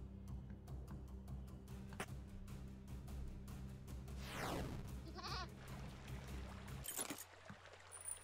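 Goat bleats inside a video game, sounding over a steady bed of game music and effects, with a sweeping tone and a sudden change in the background near the end.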